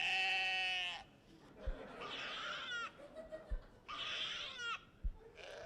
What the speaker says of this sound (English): that's an animated goat that when you touch the screen, it just bleats